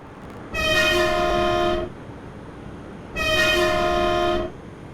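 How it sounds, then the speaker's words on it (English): Two identical short blasts of a Swiss GE 4/4 Mark III electric locomotive horn on the Albula Line in Train Simulator, each clear and steady, separated by a brief gap over a low background hum. "The locomotive's horn isn't too bad, but it's not dynamic, meaning that it will always play one short-ish recording"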